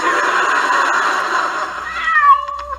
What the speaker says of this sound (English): Lola, what have you dressed the cat as?